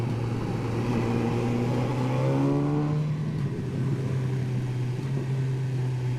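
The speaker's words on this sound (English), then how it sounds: "This is just a stock exhaust and it still cracks and burbles." A BMW S1000R litre motorcycle with a stock exhaust rumbles steadily at close range, rising in pitch briefly before settling back into a low, burbling idle.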